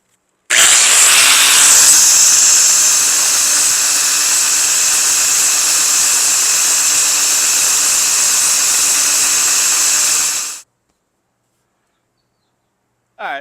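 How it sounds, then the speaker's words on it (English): A power grinder cuts parts off a 1975 Corvette during a headlight conversion, producing a loud, continuous high-pitched whine that holds steady for about ten seconds and then stops abruptly. "let's go ahead and grind these off"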